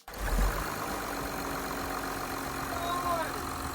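A Porsche Panamera engine turns over and settles into a steady idle, its low rumble holding evenly throughout, close by with a faint high whine above it.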